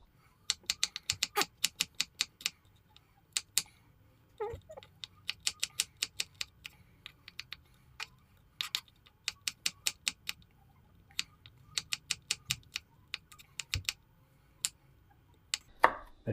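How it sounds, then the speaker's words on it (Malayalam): Garlic cloves chopped with a knife on a board for a liver roast, heard as bursts of quick, sharp, close taps in rapid runs separated by short pauses, with no talking. "വെളുത്തുള്ളി അരിയാണ്"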